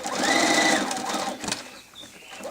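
Sewing machine stitching a quilt seam on a Tropical Breeze quilt kit: a loud, close, steady motor whir with rapid needle chatter that eases and slows toward the end.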